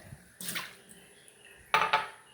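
Tea strainers are rinsed under running water, heard as two short, faint bursts of splashing water, each with a light metallic clink.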